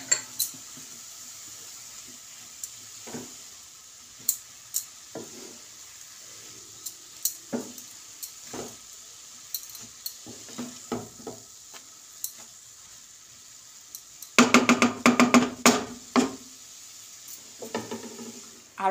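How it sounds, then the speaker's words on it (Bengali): A spoon scraping and knocking against a pot while grated carrot halwa is stirred over gentle heat, scattered clinks and taps over a soft sizzle, with a quick cluster of rapid scrapes near the end. "আমি একবার নাড়াচাড়া দিয়ে নেব।"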